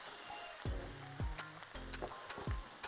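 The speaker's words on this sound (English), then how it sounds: "Stir it around." Mushrooms and arborio rice stirred in a frying pan, a steady sizzle broken by four loud scraping strokes of a spoon against the pan at roughly even intervals, close and clear.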